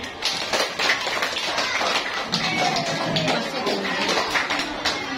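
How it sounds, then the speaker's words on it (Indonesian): An audience at a junior high school presentation on sustainable lifestyles applauds the students, steady dense clapping that fills the room from start to finish without a break. "Beri aplaus yang meriah"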